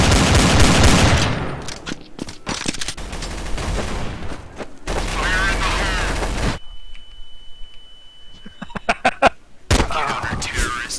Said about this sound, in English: No, my machine gun!